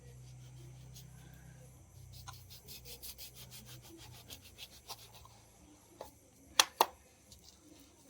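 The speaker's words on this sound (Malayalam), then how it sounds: "ഇനി നമുക്കിതൊന്ന് കട്ട് ചെയ്തെടുക്കാം ഒന്ന് കട്ട് ചെയ്യാവേ" A knife cutting through a sandwich, quiet rhythmic scraping strokes close by, followed by a few sharper clicks near the end.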